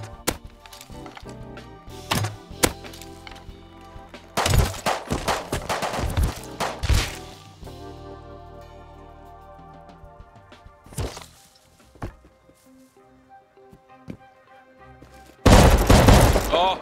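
Shotgun traps in the survival game Rust fire as a series of sharp, heavy blasts: scattered single reports early on, a cluster of close, loud shots in the middle, and a final powerful burst near the end, with quieter game noise between.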